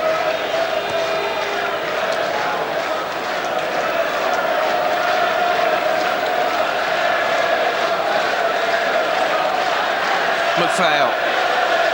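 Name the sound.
football crowd at Leeds United vs Celtic match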